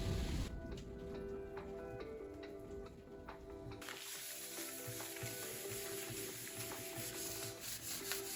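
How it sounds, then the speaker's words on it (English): Close, quiet scraping as a screwdriver works old bits off the surface of a dumpster, a gritty rubbing with small ticks that runs continuously, with no one talking. "I'm gonna try to use the screwdriver to get up some of the bigger pieces"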